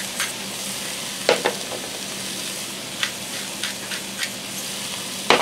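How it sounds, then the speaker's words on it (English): Peanut chicken stir fry with vegetables, seasoned with ground ginger, salt and pepper, sizzles steadily in a pan while a utensil scrapes and stirs it in a handful of short strokes. No one speaks. "I'm just going to stir this together and let it set aside so our vegetables warm through."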